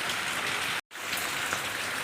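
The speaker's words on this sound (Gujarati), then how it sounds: "જો બતાવો પાછળ તમને કેટલો વરસાદ પડે છે" Steady monsoon rain pours down in a dense, even hiss of drops, broken by a brief cut of silence midway.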